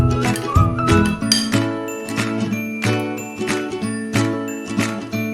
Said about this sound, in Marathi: हे लोणचं आपण बरणीत करून घेऊया